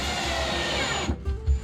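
A power screwdriver drives small screws into boat bathroom fittings, a steady loud whirring buzz that then breaks off into a few short bursts and clicks nearby, with no talking.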